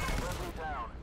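Shotgun fire in the video game Firewall Zero Hour, with a loud, dense burst of booming gunshot noise and a ringing tail, all within about a second.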